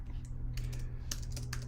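Quick bursts of clicking keys on a computer keyboard, a few scattered keystrokes in a short run, faint and close over a low steady background hum.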